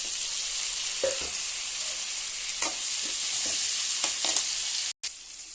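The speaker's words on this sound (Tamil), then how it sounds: "நல்லா எண்ணெயிலே வேகட்டும் கத்திரிக்காய் நல்லா வெந்துருச்சு" Cut brinjal (eggplant) pieces fry in hot oil with a steady, loud sizzle, broken by a few scraping stirs and clinks of a spoon in the pan, with no one speaking.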